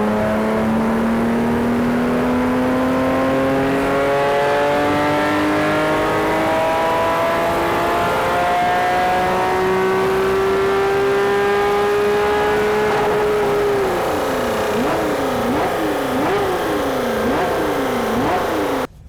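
Tuned car engine on a dyno at an event, revving loud and close in a long steady climb toward about 9000 rpm, then bouncing off the limiter in rapid repeated dips.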